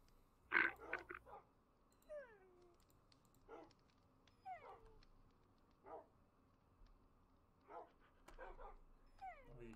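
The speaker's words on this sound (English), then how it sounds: "Dogs barking." Small dogs bark and yip intermittently at a distance in Minecraft gameplay, with quiet whimpering between and faint keyboard tapping underneath.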